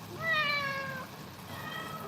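A large black cat gives one long, loud, close meow while being held, then quieter room sound follows.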